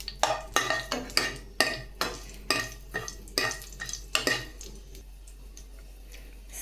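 Curry leaves sizzle in hot oil with cumin in a pan while a spoon stirs and scrapes, a series of distinct rhythmic clacks over a soft frying hiss that quiets toward the end.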